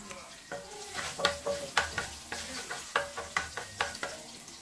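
Chopped garlic sizzling in hot oil for bihon, with a steady crackle and rhythmic spatula scrapes and taps against the pan, close and clear.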